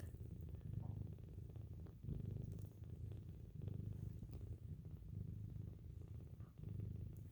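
A 17-day-old kitten purrs close by in a steady, rumbling rhythm of repeated breaths, continuous throughout.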